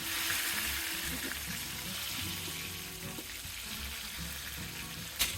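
Masala-coated eggplant slices with cornflour frying in a pan over medium heat, a steady close sizzle and crackle throughout with a brief clatter near the end.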